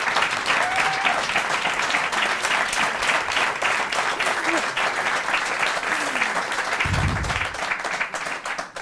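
A comedy-competition audience applauds a stand-up comedian taking the stage, a dense, steady roar of clapping that stays loud and unbroken for the whole stretch.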